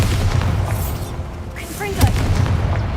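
A Bombarda spell explodes in the video game Hogwarts Legacy, a single booming burst near the middle of the clip set over a steady game soundscape with background voices.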